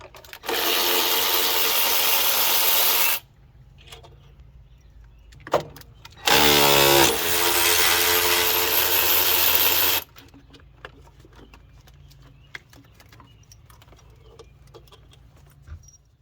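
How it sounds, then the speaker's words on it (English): A 12mm socket on a powered ratchet removes the throttle body bolts on a 2.4L Honda Accord. Two loud, buzzing motor runs of several seconds each are separated by quieter clinks and handling noises. "grab your 12mm socket and remove the 4 bolts holding the throttle body in place"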